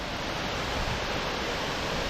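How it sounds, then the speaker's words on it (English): Steady, dense roar of a waterfall in a video game, loud and unbroken throughout, with no voices over it. "That is a good waterfall."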